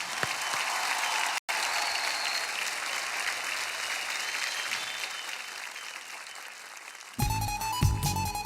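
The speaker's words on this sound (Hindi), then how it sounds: "एक बार जोरदार तालियां, कम ऑन।" Loud, dense clapping from an audience cheering on a young singer runs continuously, broken by a split-second dropout, then music with a beat cuts in over the last second.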